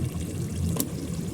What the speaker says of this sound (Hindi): और अब इसमें मैं घी ऐड कर दूंगी।